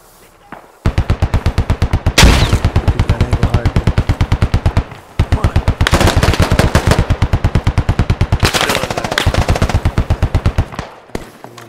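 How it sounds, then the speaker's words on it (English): Gunfire in the military shooter game Squad, set in Afghanistan: loud, sustained automatic bursts hammering in rapid rhythm for several seconds at a time, with brief gaps and a heavier blast-like surge among the shots. "I'm putting a nade in through that wall"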